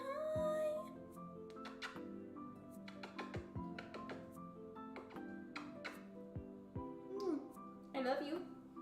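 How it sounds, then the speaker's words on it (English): Luna, a pet cat, gives a couple of short rising and falling meows near the end, close and soft, while a person talks through most of the stretch. "But that was my cat, Luna."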